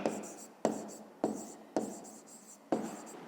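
Pen on paper writes out an answer to a fifth-grade maths exercise, a series of short scratchy strokes in bursts separated by sharp taps, close up.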